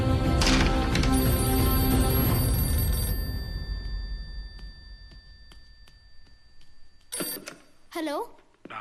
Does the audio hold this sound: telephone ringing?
yes